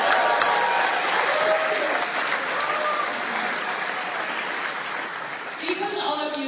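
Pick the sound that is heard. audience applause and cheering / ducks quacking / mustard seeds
audience applause and cheering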